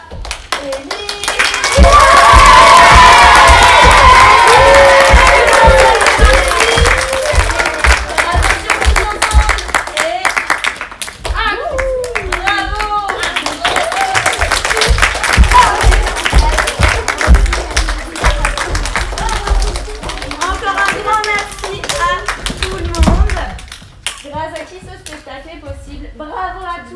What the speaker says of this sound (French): on applaudit également bien fort Madame à Élie.